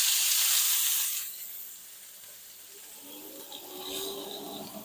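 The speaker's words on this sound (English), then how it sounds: "Searing off the fat cap first." The fat cap of a steak sears in a hot pan, opening with a strong hiss that fades to a quieter, steady sizzle, close and alone.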